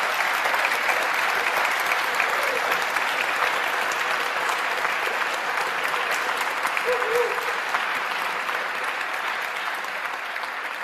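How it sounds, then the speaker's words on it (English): Sustained applause from a seated audience thanking a panel at a public discussion on science and gender, dense and loud, gradually easing toward the end. "Let's give them a cheer."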